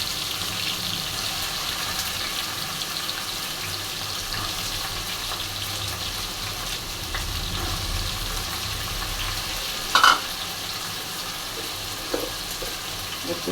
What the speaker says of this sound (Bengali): এখন আমি পেঁয়াজের মধ্যে আলুটা একটু ভেজে নেব।